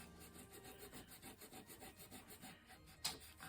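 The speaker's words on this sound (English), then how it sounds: "People take sandpaper to it. I want that on the corner going up." Sandpaper rubbed back and forth over the corner of a recycled wood Christmas sign, a steady rhythmic rasping of about a dozen close strokes, quiet and alone, ending with two louder scrapes.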